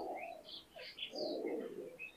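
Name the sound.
high flyer pigeons cooing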